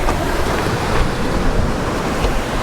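Ocean waves wash steadily around a sailboat underway at sea in following seas on a transatlantic passage. The surf rushes continuously and loudly, mixed with wind noise on the microphone, and nobody speaks.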